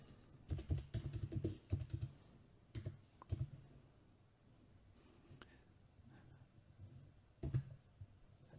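Fingers type on a computer keyboard while entering text in IntelliCAD 2023: close, quiet bursts of clicking keystrokes, then a lull, then a few more scattered key presses.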